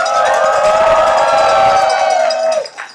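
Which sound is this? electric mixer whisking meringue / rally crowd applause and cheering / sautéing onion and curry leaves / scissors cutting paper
rally crowd applause and cheering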